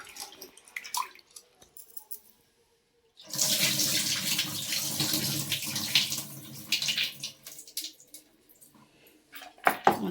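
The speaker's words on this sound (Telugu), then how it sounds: "ఇప్పుడైతే ఈ నీళ్ళన్నీ వంపేద్దామండి" Soaking water from soaked urad dal is poured off in a steady, splashing gush lasting about four seconds. It follows a quiet stretch with small handling sounds and ends with a few clinks.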